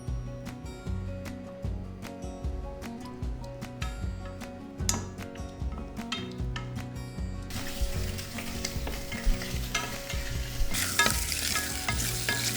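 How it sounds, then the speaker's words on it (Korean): Whole abalone stir-frying in sesame oil in a pan, with a steady close sizzle and frequent sharp clicks and scrapes of stirring that grow louder and brighter toward the end; no talk. "고소하게 하기 위해서 참기름 두르고 통으로 먼저 한번 볶아줄 거예요"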